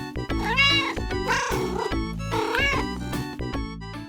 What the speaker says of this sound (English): cats primarily only meow for humans.